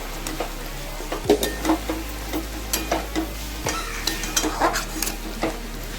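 Spices with red chili powder sauté in a pan for fried rice, giving a low steady sizzle broken by several sharp scrapes and clinks of a stirring spoon, close by, with no voices.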